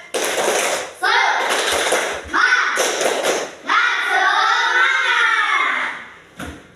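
Schoolchildren in an Indonesian classroom chanting a loud rhythmic 'tepuk semangat' clap chant, with voices and sharp hand claps and thumps in bursts separated by short pauses.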